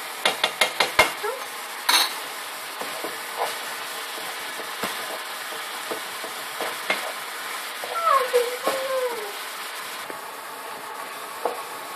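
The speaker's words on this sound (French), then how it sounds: "on fait cuire notre viande hachée" Minced meat frying in a pan for lasagne, a faint steady sizzle broken by scattered clinks and scrapes of a utensil against the pan, close and with no talk.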